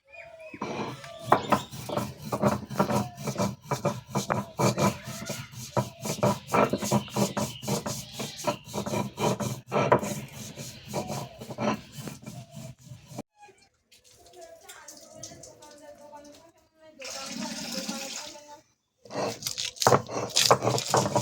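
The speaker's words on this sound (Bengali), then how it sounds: "প্রথমে আমি সর্ষে আর পোস্তটা বেটে নেবো, আর তার সাথে কিন্তু কাঁচা লঙ্কাটাও বেটে নেবো।" Black mustard seeds, poppy seeds and green chilies are ground on a stone for a Bengali bori posto dish, making rhythmic, close scraping and rubbing strokes that pause briefly, then resume in shorter bursts.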